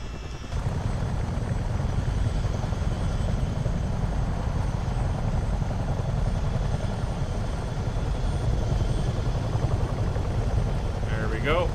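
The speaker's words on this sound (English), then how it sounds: "I do like this helicopter." A CH-47D Chinook helicopter hovers in a flight simulator, its steady broadband rotor and engine roar running loud and unbroken from start to finish, with no talk over it.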